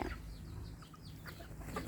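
A bantam chicken clucks quietly among other fowl, soft short calls over a low farmyard background with a faint flutter of wings.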